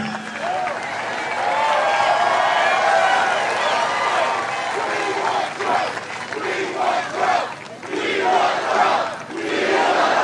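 Crowd at a Trump rally cheering and shouting in a loud, sustained roar, with surging waves of yells and applause that swell and dip throughout.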